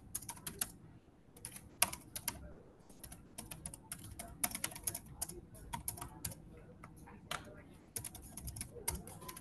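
Fingers type a password on a computer keyboard, a close run of quick, irregular key clicks lasting throughout with brief pauses and no speech.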